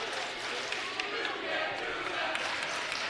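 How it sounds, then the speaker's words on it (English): A home crowd cheers at a Roseburg boys high school basketball game against South Eugene, a steady roar of gym noise with scattered sneaker squeaks and claps beneath an announcer talking. "Roseburg getting some jazz from the home crowd"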